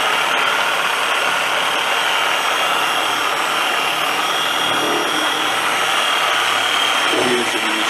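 A polishing machine runs steadily against a loose metal tank, stripping off old polish with a constant, dense, high-pitched whirring drone that holds at one level from start to finish, close by and loud.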